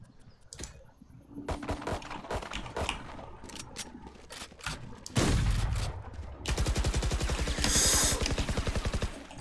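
Shotgun blasts and rapid gunfire in the tactical shooter Valorant, with mechanical reload clicks between sharp, loud shots and a dense final volley.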